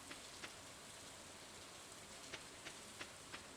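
Steady rain in the Stardew Valley farming game, a soft constant hiss with occasional faint drip-like ticks, quiet and even throughout, no talking.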